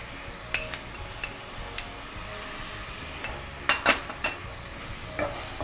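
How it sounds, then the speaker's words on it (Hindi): A spoon stirs turmeric, cumin, coriander and Kashmiri red chili powder into dal makhani in a pan, giving sporadic sharp scrapes and metallic clinks over a faint background sizzle, close up and with no talking. "इसे अच्छी तरह से हमें मिक्स कर लेना है और इसमें कसूरी मेथी भी हमें डाल देनी है"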